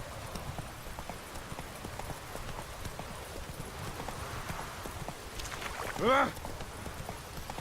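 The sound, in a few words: horse hooves clip-clopping, Roach in Witcher 3 video game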